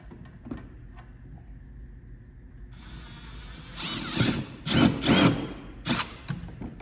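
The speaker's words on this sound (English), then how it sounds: "We're going to drill this hole out here." Faint clicks and handling noises, then a power drill whirs in several short bursts through plastic on a 2020+ Toyota Highlander, its pitch rising and cutting off, close and fairly loud.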